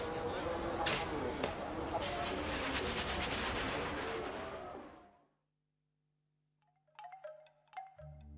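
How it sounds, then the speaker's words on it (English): Dense crackling and popping bursts of fireworks set off at Laos's most holy building in Vientiane fill the first five seconds, then silence, followed by faint scattered sounds and a low hum. "Fireworks, noisy fireworks, ignited on Laos's most holy building."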